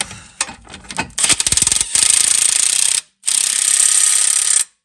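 A ratchet wrench and socket snugging down axle bolts on a 2006-2011 Honda Civic, rapid loud clicking bursts that merge into sustained ratcheting whirs, with a brief pause before a final long run, close up.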